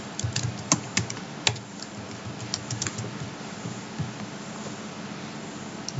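Keys clatter on a computer keyboard at close range in quick, uneven bursts of typing with short pauses, as an email address is entered on an account sign-up page.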